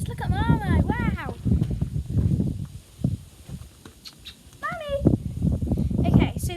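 Two cats playing with a cat toy give a pair of clear, wavering meows, one near the start and a shorter one past the middle. A person talks through most of it.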